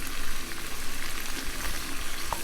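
Baby bok choy sautéing in a hot pan, a dense continuous sizzle with occasional light clinks and stirring scrapes, close by and without any talking.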